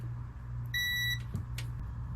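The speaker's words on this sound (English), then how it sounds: "we grab a multimeter and we set it to beeping mode" A single short electronic beep sounds from a multimeter in continuity mode testing a DTF printer's lines, steady and high-pitched, lasting under half a second over a faint hum.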